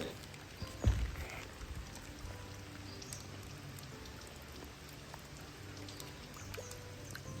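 Monsoon rainwater showers down on indoor plants in a steady, close patter of drops, with a single heavier thump near the start.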